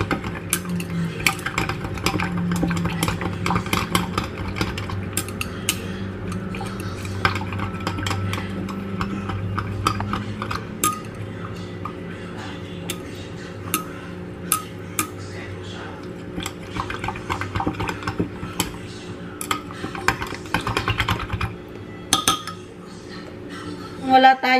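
Ingredients for homemade dinner rolls mixed in a bowl, a steady run of clinking, scraping utensil strokes against the bowl, close and continuous, with occasional talk in the background.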